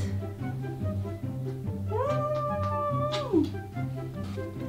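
A cat lets out a single drawn-out meow with a rising start and falling tail, heard over a soft background of steady music.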